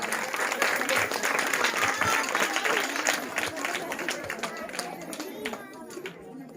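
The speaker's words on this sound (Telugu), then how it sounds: "చప్పట్లు కొడదాం దగ్గరగా" Crowd at a gift-giving gathering clapping steadily and loudly throughout, with voices and chatter mixed in under the applause.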